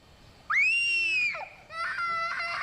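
A child screams from another room, one sharp, high, sustained cry lasting nearly a second, followed by a shorter, harsher wail; loud against a quiet background.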